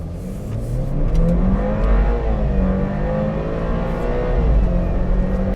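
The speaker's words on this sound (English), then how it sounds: "this 4-cylinder crossover, not a light vehicle, will go to 0 to 60 in just 6 seconds" A 2015 BMW X4 four-cylinder crossover accelerates hard, its engine note rising and shifting through gears, loud and close for several seconds before cutting off abruptly.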